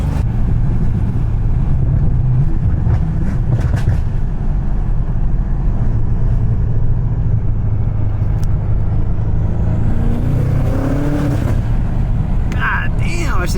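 A BMW M5 driving on a canyon road with a loud, deep exhaust drone and continuous wind buffeting, a rising engine note partway through, and people talking over the noise.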